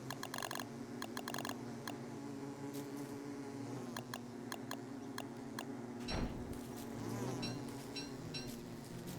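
Bees buzz in the video game Don't Starve Together, a steady layered insect hum joined by quick clicking game effects and a brief thud near the end, with no talking.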